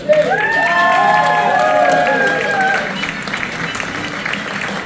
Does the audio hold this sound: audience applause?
yes